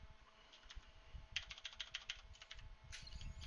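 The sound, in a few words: typing on a computer keyboard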